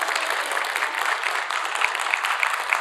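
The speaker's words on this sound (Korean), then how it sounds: "한번 우리 박수 한번 해요" A church congregation during a live worship service breaks into applause, with moderately loud, steady clapping from many people and a few sharper claps standing out near the end.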